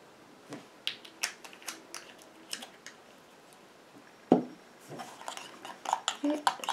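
Drops of essential oil are worked into a homemade cream for joint pain, with sparse, close clicks and taps of a utensil against a small container, quiet between strokes and busier near the end.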